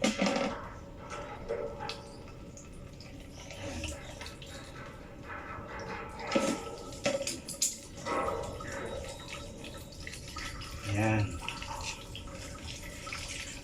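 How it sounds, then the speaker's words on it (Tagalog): Water being drained from a pressurised water tank, with irregular splashing, dripping and gurgling bursts at close range, and a brief spoken word partway through. "Tapos bubuksan nyo ito. Lalabasin nyo yung tubig."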